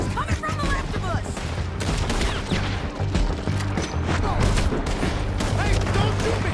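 Gunfire crackles almost nonstop in a Red Dead Redemption 2 shootout, with rapid overlapping rifle and pistol shots, some close and some farther off, and shouting voices mixed in underneath.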